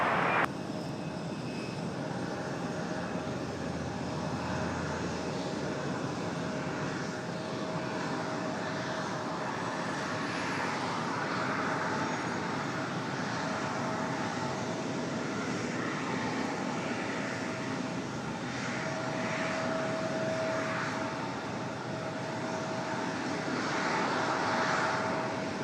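A CRJ regional jet taxiing at Raleigh-Durham International Airport, its engines giving a steady, moderately distant whine and roar that swells slightly and holds without pause.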